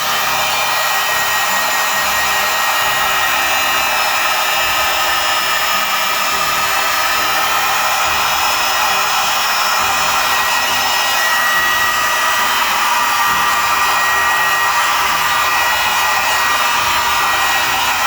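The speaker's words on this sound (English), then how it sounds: "We take our heat gun, the foam does actually become shiny in the area that you've heat sealed." Heat gun blowing on EVA foam to heat-seal it while building a giant D20 prop, a constant loud fan-driven roar and hiss that holds steady without pause and with no speech.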